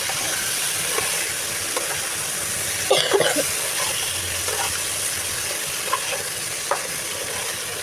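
Young hilsa fish and eggplant sautéing in a pan, a continuous loud sizzle with intermittent scraping stirs and a cluster of utensil clatters near the start.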